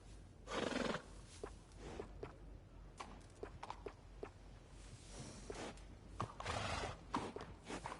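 Horse in Red Dead Redemption 2 gives two loud whinnying neighs, one early and one late, with soft hoof clops, snorts and shuffling sounds scattered in between at close range.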